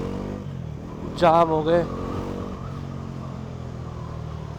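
A Bajaj NS400 motorcycle on the move, its engine holding a steady mid-pitched drone close by under wind noise, with a brief voice cutting in over it.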